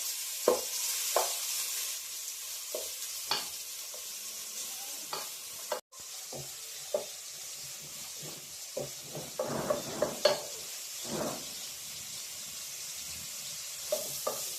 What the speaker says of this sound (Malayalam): നെയ്യ് ചൂടായി വരുമ്പോൾ അതിലേക്ക് നമ്മൾ ഗ്രേറ്റ് ചെയ്ത് വെച്ചിരിക്കുന്ന ക്യാരറ്റ് ഇട്ട് കൊടുത്ത് നന്നായിട്ടൊന്ന് വഴറ്റിയെടുക്കാം